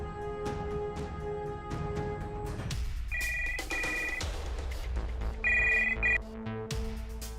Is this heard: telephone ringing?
yes